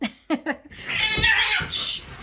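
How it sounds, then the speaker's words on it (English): Two cats that don't get along square off indoors: a few short sharp cries, then a drawn-out yowling caterwaul that rises and wavers, with a final high wail. "I had two cats wanting to occupy the same space at the same time, and it was two cats that, as you could tell, do not get along very well"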